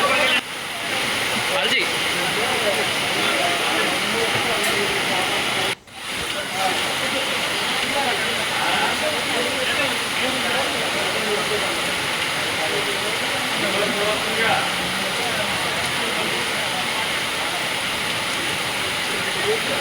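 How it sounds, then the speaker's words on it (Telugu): Heavy rain falls on flooded Hyderabad streets, heard as a loud, unbroken roaring hiss like rushing water that dips briefly and then returns. "పలు ప్రాంతాల్లో ఉరుముల మెరుపులతో కూడిన భారీ వాన కురుస్తోంది"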